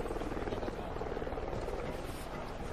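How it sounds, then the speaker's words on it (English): An enemy scout helicopter in the Call of Duty Ghosts video game, a soft, steady rotor drone heard faintly beneath game sounds, brief and distant. "Enemy Helo Scout"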